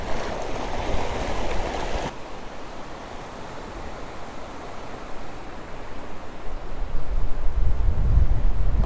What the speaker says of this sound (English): There's a lot of water hitting this bridge.